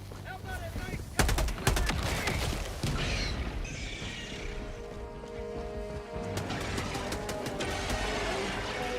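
Gunfire in Helldivers 2 rattles in quick automatic bursts with a few louder booming shots, fairly close and mixed with game effects, while a voice talks over part of it.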